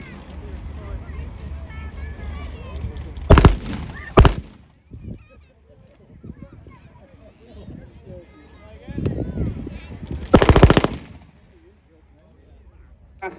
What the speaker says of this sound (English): This is our sub-machine gun. Andrew is going to be firing this for us.